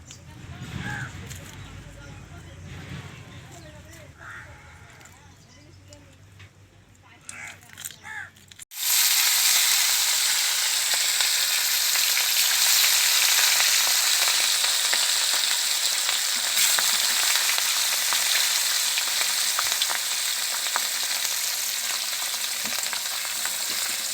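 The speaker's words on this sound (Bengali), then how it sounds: "তো এখন আমাদের হচ্ছে কলকলিয়ে মাছ ভাজা, আর এখানে এই যে ভাজা আছে, ভাজা হচ্ছে।" Fish frying in a pan, first faint under background noise and a crow's caw, then a sudden loud, steady, close crackling sizzle that fills the rest without pause.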